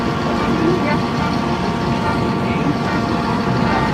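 Buses arriving at the Terminal Bareh Solok bus station in Indonesia, a loud, continuous low engine rumble of heavy vehicles nearby, with a voice talking over it.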